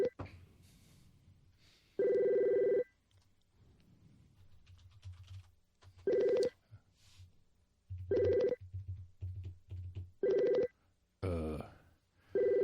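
A telephone rings back through a handset during a call attempt, loud repeated electronic ring bursts spaced about two seconds apart, with faint keyboard clicks and low background noise between the rings.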